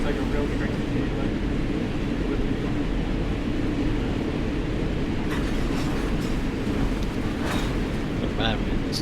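A train in the video game Microsoft Flight Simulator, a continuous low rumbling roll with rhythmic rail clatter, fairly loud and steady, with a few brief higher squeals and clicks toward the end.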